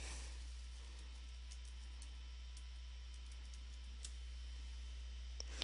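Someone types a hidden wireless network name on a computer keyboard, producing faint, sparse key clicks over a steady background hiss with no talking.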